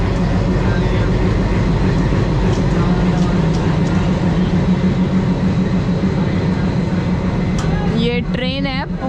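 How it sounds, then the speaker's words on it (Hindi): The Pune–Howrah Azad Hind Express passing at speed, a continuous loud rumble of wheels and carriages rolling by close up, with a brief high squeal near the end. "ये ट्रेन है पुणे हावड़ा। काफ़ी लॉन्ग जर्नी कवर करके आ रही है ये आज़ाद हिंद एक्सप्रेस।"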